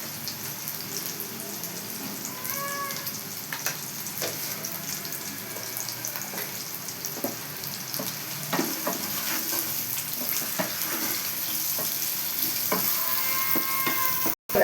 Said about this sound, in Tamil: ஆனியன் நல்லா வதக்கணும்.